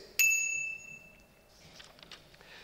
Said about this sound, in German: Gegen rücksichtslose Autofahrer, übrigens vorwiegend Frauen, hilft auch diese Glocke nichts.